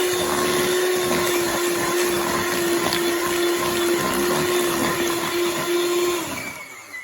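An electric mixer beats egg yolks in a bowl for a vanilla cake batter, giving a steady high motor whine that holds evenly for about six seconds before winding down at the end.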